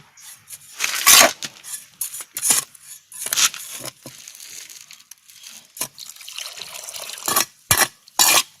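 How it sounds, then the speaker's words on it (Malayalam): Water poured and splashed onto a sand and cement mix in bursts of gurgling, trickling liquid, with short louder gushes between quieter dribbles and pauses. "ഇതിനെ വെള്ളവും കൂടി ഒഴിച്ച് നനച്ചെടുക്കണം"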